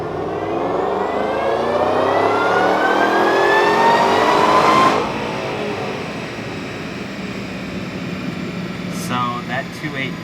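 Supercharged 2012 Shelby GT500 with a VMP Gen3 TVS blower and a 2.8-inch pulley, revving on a dyno as it climbs steadily to a loud peak, then abruptly cutting off into a lower whirring idle.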